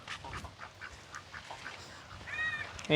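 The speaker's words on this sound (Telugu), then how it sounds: "బాతులు చూడండి ఎట్ట ఆడుకున్నాయో" Ducks quack in short repeated bursts at close range, with a louder nasal call near the end over faint outdoor background noise.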